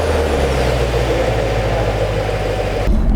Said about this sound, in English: hit the engine start button. It starts right up.